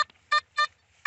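A metal detector sweeping over a buried target while hunting for treasure gives a conductive signal: three clear electronic beeps, loud and close, with short gaps between them and no voices.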